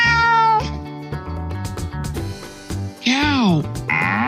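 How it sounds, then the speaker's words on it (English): A cartoon cat meows in a few rising and falling cries over bouncy children's music, close and clear, with a longer wavering meow near the end. "Cat."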